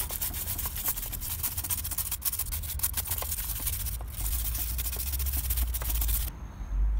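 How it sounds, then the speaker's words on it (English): Wire brush scrubbing loose rust off a Mercedes Sprinter brake caliper, a steady close rasping scrape with short repeated strokes that stops abruptly near the end. "just get in here with a wire brush and just clean this caliper, get off a lot of this loose rust"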